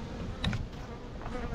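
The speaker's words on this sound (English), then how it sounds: "I'd say it's roughly 20 frames of bees" Honey bees buzzing at a large, full hive being built up for almond pollination: a close, steady hum alone with no talk, swelling briefly as a bee passes near.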